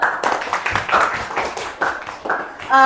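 A short burst of children clapping at the end of a school lesson, loud and close, with a few voices mixed in, ending on a bright sustained tone.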